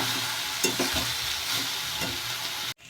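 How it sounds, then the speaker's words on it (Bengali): Cabbage and chicken fry in a pan while being stirred, a steady close sizzle broken by a few scraping stirs, then a sudden brief cut-off near the end. "এখন পুরো ভালোভাবে যে কাটা কাটা ভিজা ভিজা ভাবটা রয়েছে সেটা একটু টানিয়ে নেব"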